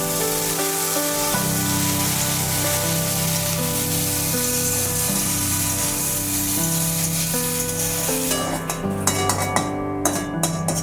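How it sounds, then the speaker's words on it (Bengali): Eggs and potatoes fry in a pan with a constant hissing sizzle, partly buried beneath loud background music, and a few clatters of stirring near the end. "এদিকে হচ্ছে ডিম আলু এগুলো ভাজা বসিয়ে দিয়েছি"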